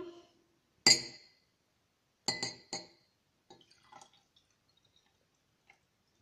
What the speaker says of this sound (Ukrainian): Став і наливаєш туди водичку.